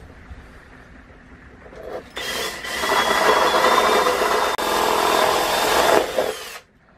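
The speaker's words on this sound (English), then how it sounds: "This takes a 7/8 drill bit to do that. So we're going to drill through that" A power drill with a 7/8-inch bit bores a hole for an RV stove igniter switch, building to a steady loud whine with grinding and a thin high tone, then cutting off abruptly.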